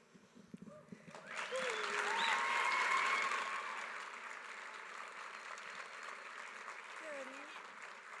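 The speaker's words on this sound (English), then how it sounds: "Big round of applause for Michelle" An audience applauds speaker Michelle, the clapping swelling after a second to a loud peak with cheering voices, then settling into sustained applause with calls rising above it.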